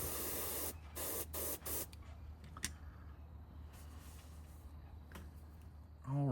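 An airbrush sprays chromium oxide green paint onto a fishing lure around the gill plate in several short hissing bursts, close and loud, with quieter gaps and faint clicks between them.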